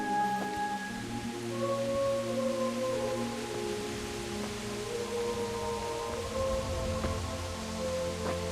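Steady rain falling in the medieval world of Kingdom Come: Deliverance, a constant hiss behind droning tonal game music that fills the whole span at an even level.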